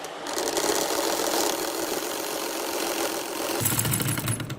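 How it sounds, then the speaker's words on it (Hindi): A sewing machine stitches a neckline in a steady, fast mechanical whir, close and loud, changing pitch briefly near the end as the stitching speeds up. "अब हम नीचे सिलाई लगाएंगे।"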